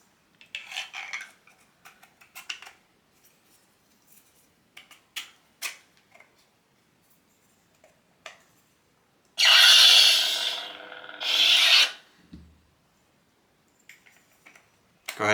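Small plastic buttons are pushed into the metal hilt of a Korbanth Retribution lightsaber, giving sparse, close clicks and taps with two louder rustling, scraping bursts near the end and no talk.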